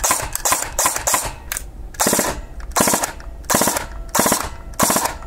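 An airsoft gun fitted with a Perun AB++ mosfet fires rapid full-auto bursts with sharp mechanical clatter, several quick strings separated by brief pauses, loud and close.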